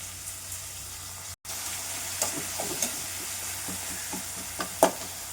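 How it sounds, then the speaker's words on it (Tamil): Steady sizzling of tomato pulp with salt sautéing in a pan, with occasional scraping and stirring sounds scattered through it. No voices. "அது திப்பியை மட்டும் போட்டு கொஞ்சம் உப்பு போட்டு நல்லா வதக்கிக்கலாம்"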